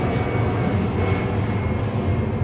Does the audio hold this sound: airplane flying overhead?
yes